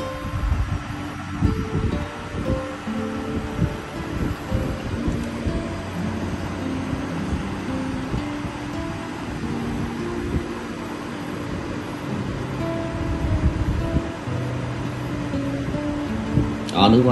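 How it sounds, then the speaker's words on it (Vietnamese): The cooling fan of an induction cooktop whirs in a steady, close hum that runs unbroken throughout, with a few faint clicks and rattles on top. "Đó, mình nghe tiếng quạt liền nha."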